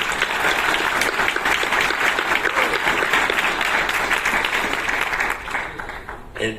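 An audience at a CPAC political conference in Paraguay breaks into loud, sustained applause that fills the room before fading out near the end, with no speech over it.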